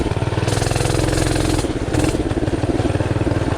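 A Tillotson 212R race engine on a bike runs loud and close with a rough, throbbing exhaust beat, the throttle blipped briefly so the revs jump and fall back to a choppy idle while the clutch sticks.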